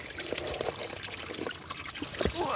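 Dirty water from an outdoor source is poured into a hiking water filter bag, an uneven trickling and splashing with small gurgles close by.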